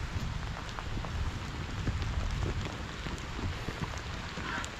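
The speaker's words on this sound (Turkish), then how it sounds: "Geldi yağmur." Rain falls steadily on a rainy day in the village countryside, a soft, even patter of drops hitting surfaces, faint and continuous with no talking.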